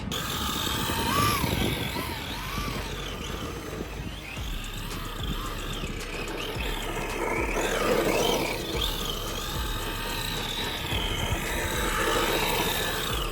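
A Traxxas 4-Tec RC drift car runs outdoors around cones, its electric motor whining continuously and rising and falling in pitch over a rough, rumbling roll, close and loud throughout.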